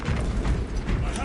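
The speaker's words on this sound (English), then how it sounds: "Gears are grinding like an old contraption." Grinding, ratcheting gear mechanism from the Warhammer game Space Marine 2, a dense, steady mechanical churn with clicking texture, close and loud, with a voice talking over it.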